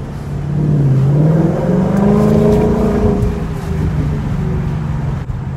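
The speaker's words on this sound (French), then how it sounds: "Le bruit du V8 est bien prononcé." The deep V8 engine of a 2019 Ford Mustang rumbles steadily up close, its throaty note swelling slightly as it revs, with no one talking.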